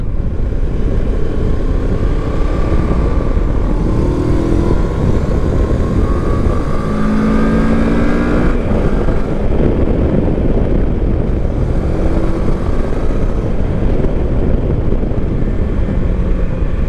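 A 2024 CFMoto 700MT motorcycle ridden through corners, heard as a steady engine drone with rising and falling pitch as the rider shifts and accelerates, mixed with heavy wind rush.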